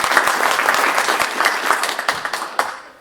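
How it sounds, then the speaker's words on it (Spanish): A live audience applauds a speaker introduced at a professional seminar on the IFRS 16 leasing standard, with dense steady clapping that thins into a few scattered claps before fading out at the end. "les pido por favor un voto de aplauso para Daniel"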